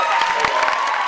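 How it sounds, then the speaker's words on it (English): Audience applause at a school winter sports assembly: a steady wash of clapping filling the whole short moment, fairly loud, with a few sharper individual claps standing out and no talk over it. "Feel free to applaud."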